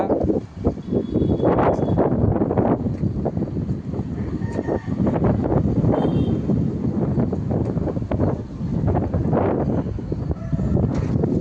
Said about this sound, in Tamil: அடிக்கிற காற்றுல ஒன்றும் பண்ண முடியல.